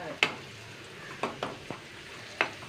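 Onions and chili powder fry in a pan, with a low steady sizzle broken by a few sharp scrapes of a stirring utensil, close and fairly quiet.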